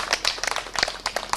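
Crowd clapping at a political party's 15th anniversary rally as the MCAs stand and wave; brisk, uneven applause in short bursts, fairly close and moderately loud, with no talking.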